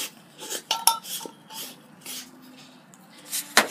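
Light clinks and taps of a DIY jar being closed with its lid, small glassy knocks and a brief scrape, quiet and close, with a sharper clack near the end.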